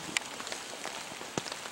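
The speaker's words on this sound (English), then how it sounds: "hopefully this rain stops" Steady rain patters on a surface around a hunting stand during rifle season, with a few louder drops against a soft continuous hiss and no voices.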